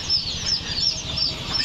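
Seven-day-old Tiger and broiler chicks, around three thousand in a brooder, give repeated high peeping chirps over a low steady hum, brief and moderately close.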